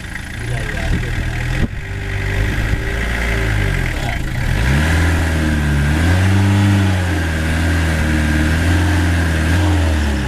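Car engine in second gear pulling and accelerating, its rising and falling drone loud and close, with people talking over it inside the car.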